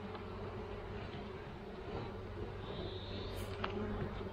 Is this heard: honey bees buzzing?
yes